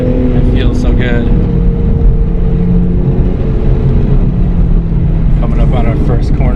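A 2020 Toyota Supra MK5 engine drones steadily from inside the cabin while driving, a loud continuous low hum with a brief rise in pitch, with short bursts of a voice talking over it.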